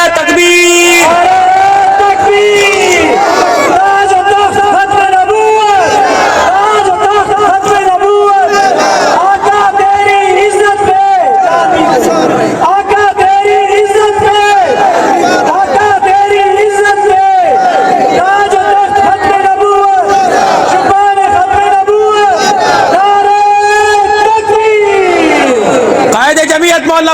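A large crowd at a religious gathering or rally shouts in unison in answer to the Nara-e-Takbir slogan call. The loud, massed voices rise and fall in repeated surges across the whole stretch, with harmonic chanting from many people at once.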